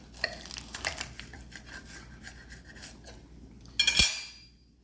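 A knife saws through a baked, crunchy pizza empanada filled with ham, giving scraping and crackling strokes close up, ending with a sharp clatter of the blade on a plate or board.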